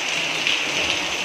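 Heavy rain from Typhoon Aghon pours down steadily in Masbate, Philippines, a dense, hissing wash of drops drumming on surfaces, loud and continuous with no voices.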